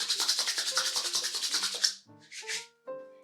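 Hands rub styling cream through curly dry hair with fast, rhythmic, close-up swishing strokes that stop briefly, then return as a few shorter rubs over faint background tones.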